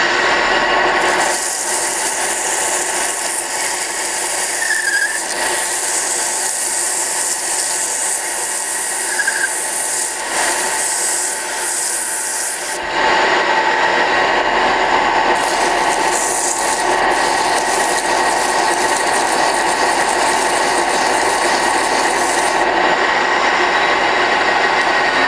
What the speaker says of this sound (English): Let's hit it with some 40 grit, see how that works.